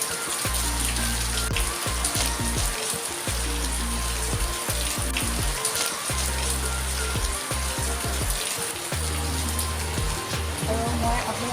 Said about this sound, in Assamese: বৰষুণ একদম নেৰানেপেৰা বৰষুণ